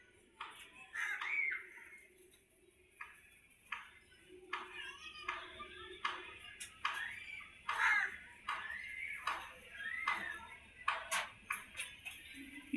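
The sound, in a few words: crows cawing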